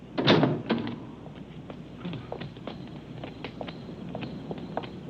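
A door opens with a loud wooden knock and scrape at the start, followed by softer shuffling footsteps and small bumps nearby in a quiet room.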